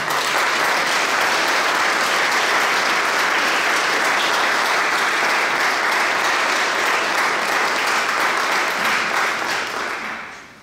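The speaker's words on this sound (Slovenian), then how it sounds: "Morda mogoče en aplavz za to." Sustained, dense applause from an audience at a public event honoring a member of parliament, even and loud for about ten seconds before tapering off at the end.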